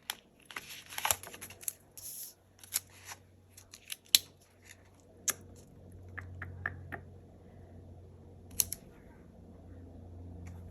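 Scissors snip through planner paper at a desk, a series of crisp, close cuts in irregular bursts with small rustles of paper between them.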